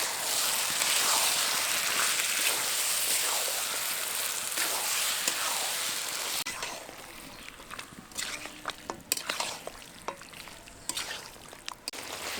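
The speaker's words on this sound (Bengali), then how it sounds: "খুব ভালোভাবে এবার মশলার সাথে কষিয়ে নেব।" Kadaknath chicken meat sautéing with spices in hot oil, a steady bright sizzle that later breaks into intermittent scraping and stirring clatter, close and continuous without talk.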